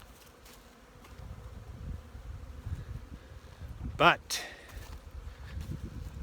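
Bees swarm around a pig pen, feeding on pig feed and cornmeal, a steady low buzzing hum close by, with someone talking over it and a brief louder sweep partway through.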